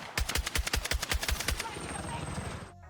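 Rapid bursts of SCAR assault rifle fire in Battlefield 6, a dozen evenly spaced sharp shots ringing out close and loud before trailing into echo and fading away.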